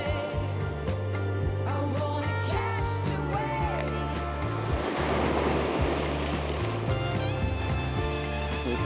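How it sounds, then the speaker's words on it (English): Sea waves break and wash over the rocky shore at Charmouth on the Dorset coast in a continuous close roar, with a swelling surge midway, and people talking faintly beneath the surf. "you know there's a big wave coming"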